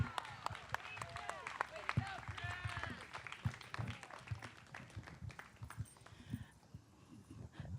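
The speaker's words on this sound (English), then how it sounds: "Give him a round of applause, everybody." A crowd claps and applauds at an outdoor disability pride rally, a dense patter of hands rising and thinning, with voices talking over it.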